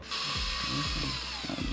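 A power tool runs steadily with a high whine, while low knocking and rumbling sounds come and go beneath it.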